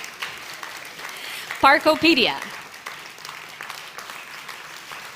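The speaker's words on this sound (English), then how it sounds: "Let's roll a round of applause for our nominees." An audience at the Moldova Innovation Awards applauding award nominees, a steady wash of clapping throughout while an announcer's voice briefly speaks over it.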